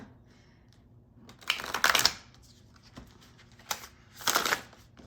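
Two quick bursts of riffling cards, soft and close, separated by quieter handling noises and small taps.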